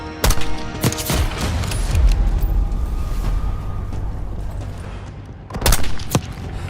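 Call of Duty Black Ops 6 battle with sharp bursts of gunfire and heavy thumping impacts over a rumbling backdrop, loud shots clustered at the start and again near the end.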